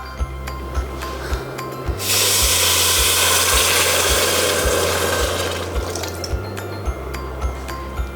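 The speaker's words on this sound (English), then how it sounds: "And now I'm just gonna add some water." Water poured into a pot of spiced lentils for dahl: a loud, splashing rush of liquid lasting about three and a half seconds, framed by soft, regular low thumps before and after.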